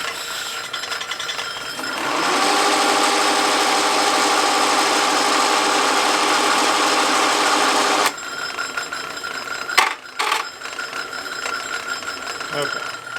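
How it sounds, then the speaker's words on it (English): A Craftsman 12x36 metal lathe motor spins up and runs with a steady, loud whine and hum for several seconds, then cuts out, followed by clunks of the controls and speech nearby. "Alright, motor's spinning. Now I can engage the chuck."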